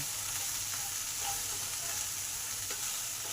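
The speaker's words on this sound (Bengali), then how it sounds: "আরও দুই মিনিট ভালো করে কষে নিলাম যাতে হলুদের কাঁচা গন্ধটা চলে যায়" Okra sautéing in a pan with salt and turmeric gives a soft, continuous sizzle with faint stirring, steady and close, and no voices.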